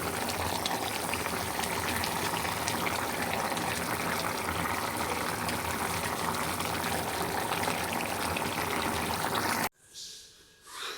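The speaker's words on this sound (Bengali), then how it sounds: "পটল কষানো হয়ে গেলে ঝোল দিয়ে দিয়েছিলাম, এখন এর মধ্যে মাছ দিয়ে দিচ্ছি" Fish dropped into a pot of pointed gourd (potol) curry simmering in broth, a steady dense bubbling sizzle that runs loud and continuous before cutting off abruptly near the end.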